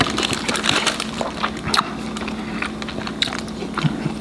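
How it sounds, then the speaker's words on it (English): Someone takes a first bite of a Fatburger XXXL burger, with close crunchy biting followed by soft wet chewing noises. "The burger though, that's gonna be filling, goes with the first bite"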